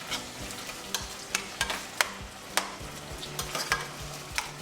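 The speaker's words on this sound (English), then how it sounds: "I'm going to stir it up." Seasoned attieke food with black pepper, a Maggi cube and cayenne cooks in a pan as a spoon stirs it, producing repeated rhythmic scrapes and taps over a low, steady sizzle, all fairly quiet.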